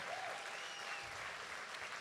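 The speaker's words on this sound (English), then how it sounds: "that's worth a round of applause too" At a charity boxing event, a crowd in a large hall applauds, a continuous wash of distant clapping and cheering that stays fairly faint but steady for two seconds.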